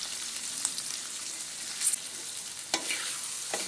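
Potatoes, peas and a ground spice paste sautéing together in a pan for a paneer, cauliflower and potato curry, a quiet even hiss with scattered spatula scrapes and taps.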